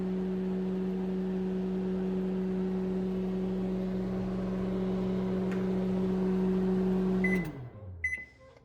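A Panasonic NNSD664W inverter microwave running at half power gives a steady, close hum with a constant low drone. After about seven seconds it winds down and stops, and a few short beeps follow in the quiet.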